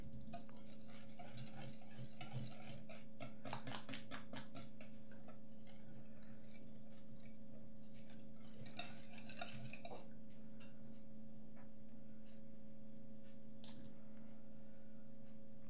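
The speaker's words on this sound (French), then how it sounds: "Je remue." Basbousa batter mixed with oil is stirred in a bowl, giving a steady scraping and clinking of a utensil against the bowl through the first half, fading to quieter stirring over a low background hum.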